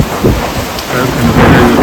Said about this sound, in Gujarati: કડાકા મારે